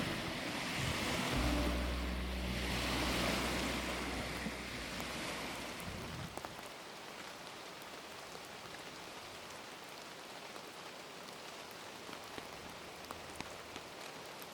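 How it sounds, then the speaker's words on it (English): Small waves break on the shore of Loch Lomond in a steady, gentle wash under wind, with a deeper rumbling gust in the first few seconds that then eases to a soft, continuous lapping. "the wind strengthened, wrapping around the top of the bay and creating small waves which broke on the shore"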